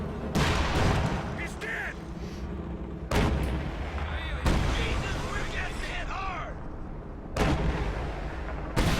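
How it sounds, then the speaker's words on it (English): A rapid bunker-busting artillery barrage rumbles through a Company of Heroes 2 match, with heavy, continuous booms and blasts and several sharper detonations breaking through, as a commentator talks over the battle. "he's using the bunker busting barrage"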